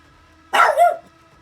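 A dog gives a single short bark, a sharp double-peaked woof standing alone over a quiet background.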